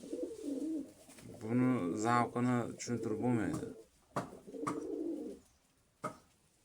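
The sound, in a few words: pigeons cooing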